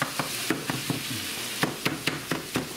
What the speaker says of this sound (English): A little bit of lemon pepper. Stir it around a little bit.